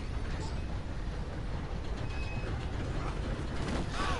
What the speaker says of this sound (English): the train ran him over